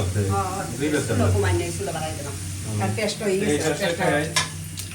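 Spices sizzle and crackle as they are fried and stirred in a pan, a steady close hiss running the whole time while someone talks over it.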